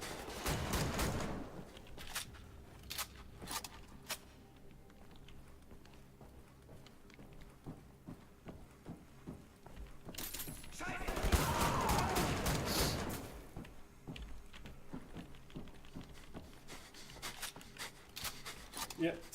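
Shotgun fire in Wolfenstein: The New Order comes as scattered sharp blasts amid clattering action, with a denser, louder flurry in the middle stretch, while voices are heard in the mix.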